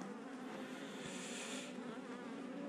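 Honey bees buzzing in a steady, dense drone at the hive, close and continuous with no voices, a slightly brighter whirr swelling through the middle.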